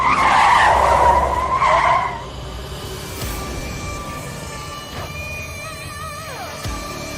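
A car brakes suddenly, its tires skidding in a loud, harsh screech for about two seconds before cutting off, followed by quieter interior ambience and a few faint tonal sounds.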